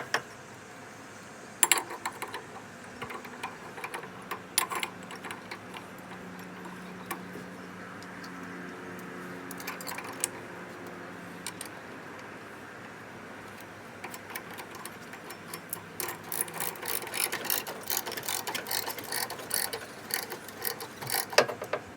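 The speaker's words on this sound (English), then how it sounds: "Let's get the belt back on." Close-up mechanical clicks, ratcheting and metal taps come in irregular bursts, growing busier toward the end as a fan belt is refitted by hand on a VW Beetle engine.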